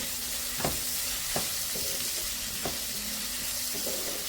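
Sliced onions with a quarter spoon of salt being stirred in a hot pan for a bean stir-fry, with steady sizzling and several distinct spoon scrapes and knocks at an uneven pace.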